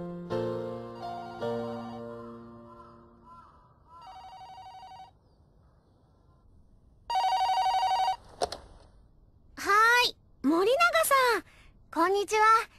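A mobile phone rings repeatedly in short electronic bursts, then brighter ringtone trills follow with gaps between, clear and fairly close with no one answering.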